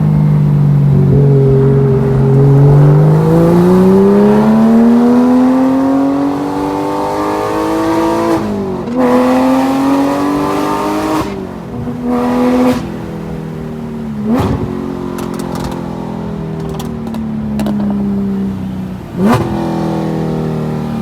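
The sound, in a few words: Porsche 911 GT3 engine revving at 9k RPM with headers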